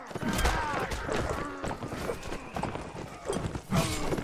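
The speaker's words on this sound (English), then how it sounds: "Stop, stupid horse!" A horse gallops in the video game Mount and Blade, with quick hoofbeats and a neigh amid battle clatter and hits, fairly close and loud.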